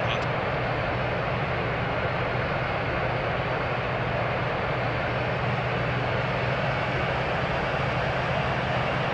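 An Airbus A350-1000 taxiing to the runway holding point fills the space with a steady, broadband engine roar and a low hum that stays unchanged throughout.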